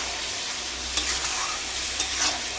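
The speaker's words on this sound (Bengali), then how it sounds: "এবার এটাকে ভালো করে মিক্স করবো।" A spoon stirs fried sauce with tomato ketchup in a pan for dragon chicken, giving a continuous close sizzle and frying hiss with a couple of soft scraping strokes.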